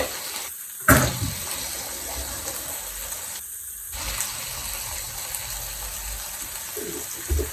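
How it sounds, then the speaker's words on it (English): Tap water runs into a kitchen sink for handwashing, a steady close gush that cuts off briefly twice before flowing on. "Let me get rid of this and wash my hands."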